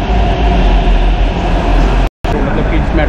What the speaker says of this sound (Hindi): ये आ गई मेट्रो।